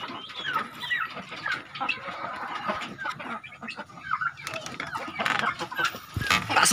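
Backyard chickens cluck and chatter steadily throughout, a dense flock close by with overlapping calls and no talking.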